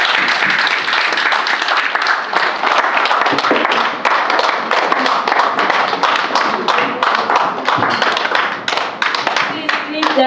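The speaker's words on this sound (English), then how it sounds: "Please, keep clapping" An audience at a convention lecture on unity in diversity claps steadily, dense overlapping hand claps filling the hall at close range, loud and continuous, with faint voices underneath.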